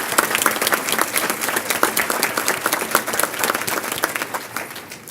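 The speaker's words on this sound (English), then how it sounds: "Can we please have a round of applause for our sponsors?" An audience at an Athena Award ceremony gives a round of applause for the event's sponsors, dense, loud clapping from a sizable crowd that holds steady for several seconds before easing slightly at the end.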